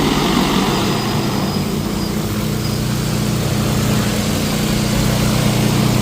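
A crop-spraying aircraft takes off at night, heard as a loud, continuous engine and propeller drone that stays steady and close, with no talk.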